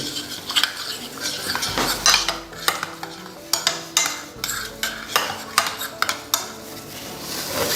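Goat liver (kaleji) being mixed with turmeric powder and spices in a metal pan, with a steady series of scraping and clinking spoon-on-metal stirs and knocks, close and alone.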